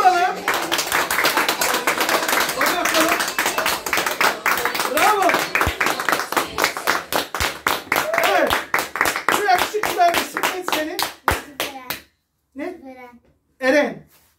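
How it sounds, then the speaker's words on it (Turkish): Audience clapping at a Turkish circumcision celebration, a dense run of sharp, close hand claps that thins into scattered, slower claps and stops, followed by brief talk. "Bir alkış alalım."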